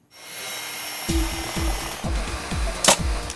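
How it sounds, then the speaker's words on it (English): Power tools in a high school workshop classroom give a steady mechanical whir with a series of rhythmic, repeated thumps or strokes about every half second, close and moderately loud. "Very heavy power tools, the saw, the drill, nail gun, a lot of dangerous stuff."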